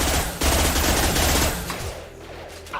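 Rapid automatic gunfire in a video game, a loud dense burst of shots that drops off into faint scattered sounds.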